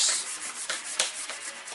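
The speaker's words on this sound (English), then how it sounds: "I want to show you what goes into sanding an edge" Rhythmic 80-grit sandpaper strokes rasp against the edge of a solid surface artificial stone piece, several quick rubbing passes close up with no talking.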